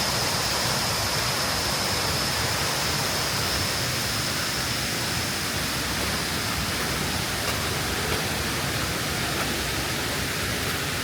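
A high jungle waterfall at Lata Penyel, Pos Yum roars as a loud, constant rush of falling water, steady and unbroken throughout.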